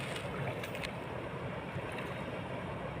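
Fast-flowing floodwater of the Sutlej river near Sri Anandpur Sahib makes a dense, steady rushing roar that fills the short stretch, buffeted by wind noise.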